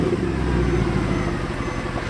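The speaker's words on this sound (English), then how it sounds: "This car in particular does have modified mufflers to let that V8 scream." A 2012 Mercedes C63 AMG with a 6.3-liter V8 and modified mufflers rumbles in a steady, deep drone, close and continuous for a couple of seconds with no talk.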